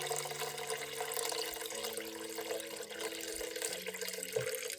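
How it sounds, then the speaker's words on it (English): Tap water runs steadily into a container as cold and hot water are mixed at five parts to one to make warm water for defrosting meat, a continuous close splashing stream with a faint low hum beneath. "mix 40-degree warm water by taking 5 parts cold water and 1 part hot water"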